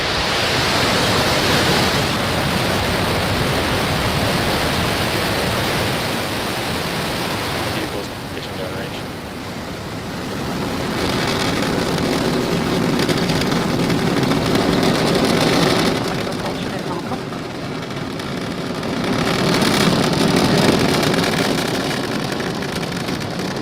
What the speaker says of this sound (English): And we have liftoff.